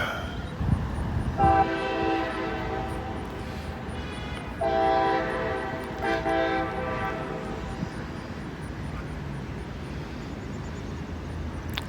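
A local train rolls by outdoors with a low rumble, and its horn sounds in two long blasts, the second following a short gap, over steady background noise.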